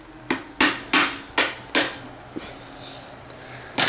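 A child strikes a vacuum cleaner with a hammer, five sharp, loud metallic knocks in quick succession, then a smaller tap and another blow after a pause, close up in a quiet room.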